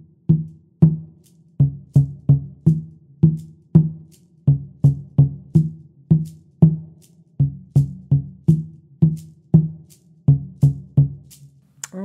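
Medium and large djembe drums play a clave-style rhythm, each stroke a sharp, close, resonant hit with a booming low body, falling into repeating groups of strikes over about twelve seconds with no voices.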